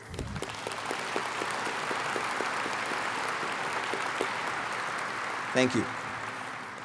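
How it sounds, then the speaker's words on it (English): Audience applause at a port event, a steady wash of clapping from a sizeable crowd held at moderate level throughout, with a short spoken thanks near the end. "Let's give them all a round of applause."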